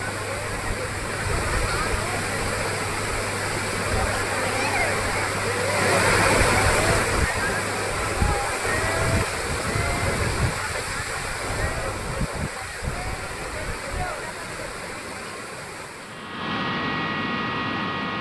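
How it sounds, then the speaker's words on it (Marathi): Floodwater of the swollen Wainganga river at Gadchiroli after days of heavy rain rushes in a loud, steady broadband roar that stays constant throughout and drops briefly near the end before resuming. "नदीला मोठ्या प्रमाणात पूर आलेला आहे"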